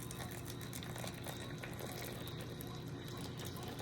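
Hot water poured from about a foot high over brewing Ti Kwan Yin oolong tea on a tea table, a steady continuous trickling pour with faint clinking, close and unbroken, with no talking.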